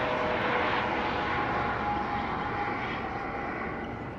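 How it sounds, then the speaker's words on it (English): A loud, steady engine roar of a red helicopter overhead, a broad rumbling drone that slowly fades slightly toward the end. "But it's a red helicopter"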